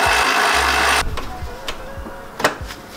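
A power steering reservoir being unbolted on a JDM sports car, with a loud, close ratcheting whir for about a second followed by scattered metallic clicks and taps.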